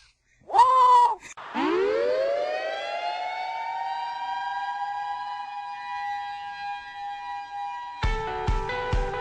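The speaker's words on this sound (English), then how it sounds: "The siren has sounded" A short siren whoop sounds first, then a loud rising wail climbs and holds a steady tone for several seconds before a few sharp clicks close it out. It plays on an NFL Week 2 picks show.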